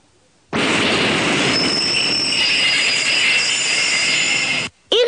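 A U-Bahn subway train pulls in after brief quiet, a loud sustained roar of rumbling wheels and high squealing that ends suddenly, followed by a short burst of noise.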